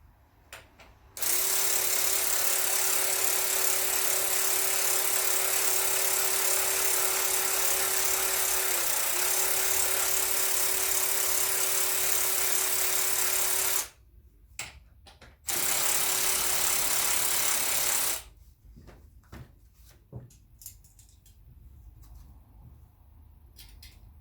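Bolts are wound in with a powered tool while a Suzuki GT750 engine is fitted into its frame: a loud, steady mechanical whir with a constant pitch runs for about twelve seconds. It stops, runs again for a shorter burst, then gives way to faint clicks and handling noises.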